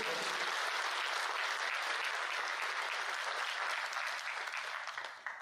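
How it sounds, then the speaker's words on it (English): Enthusiastic applause from staff filling a Kotak Mahindra Bank town hall, a dense continuous wash of clapping that swells quickly, holds evenly and then begins to fade. "Can we have a big round of applause for all of you?"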